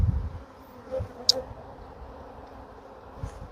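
Honey bees buzzing around an open hive in an apiary, a faint steady hum with a few individual bees passing close to the microphone, plus light handling knocks.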